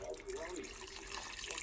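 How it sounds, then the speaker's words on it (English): Low sodium beef broth is poured into a pot of pork adobo, a short steady splashing trickle of liquid with no voices over it. "Now we pour in a cup and a half"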